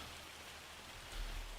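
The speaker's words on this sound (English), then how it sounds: "Giants only made their hail sound effect" Looping hail sound effect from the video game Farming Simulator 25, a steady dense patter of hailstones hitting surfaces, swelling slightly louder near the end, with no voices.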